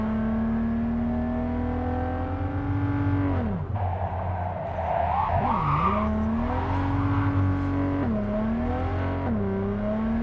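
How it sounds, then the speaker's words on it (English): Mizutani Shion sports car in Cyberpunk 2077 droning loudly at high revs, a steady harmonic engine whine that dips twice as gears shift, with a brief tire squeal midway before the drone climbs back. "it's the Mizutani Shion that's got that god-awful drone every time you hit top revs"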